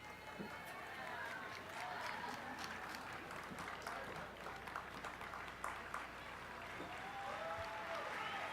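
A commencement audience at a college graduation ceremony applauds, producing a steady, sustained wash of clapping from many hands, heard from some distance.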